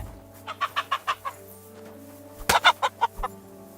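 A chicken in Kingdom Come: Deliverance 2 clucks in two quick bursts of short, evenly spaced clucks, close and clear, separated by a brief pause.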